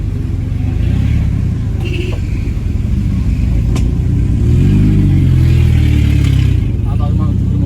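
A Honda CB400 motorcycle engine runs close by in a workshop, a loud, continuous rumbling idle with slight revving swells, while voices talk over it.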